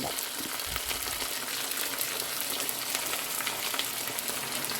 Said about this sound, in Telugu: ఆనియన్స్ పచ్చిమిర్చి మంచిగా ఫ్రై అయిపోయినాయి